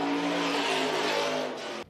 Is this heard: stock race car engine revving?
yes